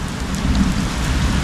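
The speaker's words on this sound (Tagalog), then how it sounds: "Naligo pa rin ako sa ulan." Steady, heavy rain pouring down close by, a continuous wash of drops hitting a metal roof.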